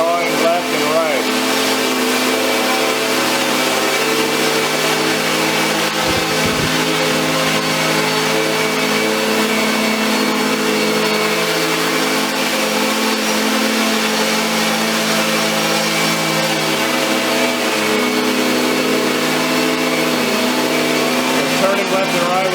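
Quad tilt-rotor eVTOL concept demonstrator hovering and yawing left and right, its rotors giving a loud, sustained multi-tone whine and buzz that holds steady throughout, with one brief thump partway through.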